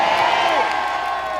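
Concert audience at an outdoor hat festival in Sangju cheering and applauding for a trot singer, a dense, steady roar of voices and clapping that holds loud for the whole moment.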